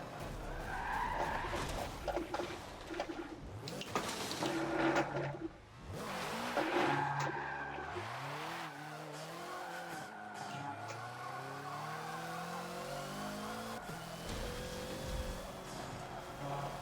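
A race car spins out with tires skidding and squealing in the Forza video game, a long screeching slide with engine revving and pitch sweeps, loud and continuous with no talking.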